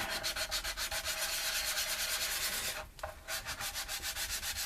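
Close, steady back-and-forth strokes of sanding rub along the seam lines of a plastic USS Enterprise model kit, a rhythmic scratchy pulse with a brief pause before the strokes continue.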